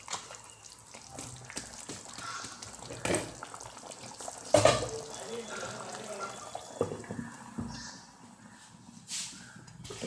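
Chicken curry is stirred in a pot with scattered scraping and clinking of a spoon against metal, soft wet stirring between the knocks, under a voice talking.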